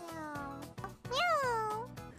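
A voice imitates a cat, giving a few short meows and then one long, rising-and-falling meow, standing in for the frog's sound effect in Plants vs. Zombies.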